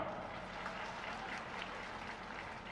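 A crowd claps at a political rally in Guna, the sound forming a steady, dense wash of applause that stays even and unbroken from start to finish.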